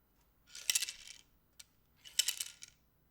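Magnets dropped through a copper tube land in two short, bright metallic clatters about a second and a half apart, crisp and close in a quiet room.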